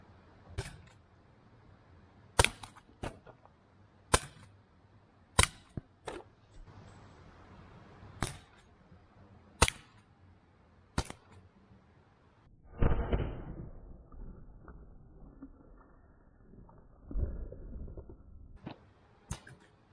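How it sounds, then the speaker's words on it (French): Umarex HDB 68 large-calibre home-defence airgun fired at plastic water bottles from 3 metres, giving a series of sharp isolated cracks at irregular intervals, followed by a couple of duller splashing, crumpling impacts. "Donc maintenant, tir à 3 mètres, test de destruction sur des bouteilles d'eau."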